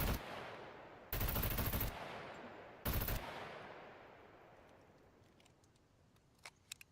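Light machine gun fired in a video game: two loud bursts of automatic fire, about a second and a third of a second long, each trailing into a long fading echo, with faint clicks near the end.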